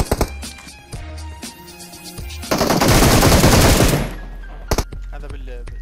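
Rapid bursts of video game gunfire crackle loudly for over a second, followed by a couple of sharp single shots, with game sounds and effects around them.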